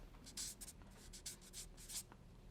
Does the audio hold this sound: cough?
no